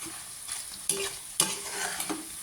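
Shrimp frying in a pan, a steady close sizzle with stirring scrapes and a few louder pops from moving the shrimp, with no one speaking.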